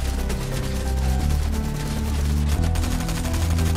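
Continuous, loud gunfire in the video game Fortnite, rapid overlapping shots forming a steady dense barrage across the whole stretch, with game sound layered underneath.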